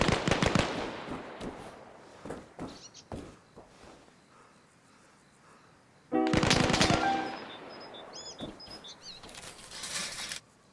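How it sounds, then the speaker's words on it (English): Gunfire in a DayZ-style survival video game: a burst of loud cracks early on, scattered single shots, then a dense rapid volley around the middle, along with softer clicks and game effects. "Gunshots sound really good."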